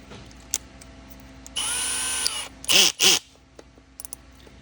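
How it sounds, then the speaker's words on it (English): A power drill whirs steadily for about a second, then gives two short, loud bursts as it bites into the power nozzle of a Hoover Commercial Insight vacuum, with quiet pauses between. "So we should be good to just start drilling holes into this."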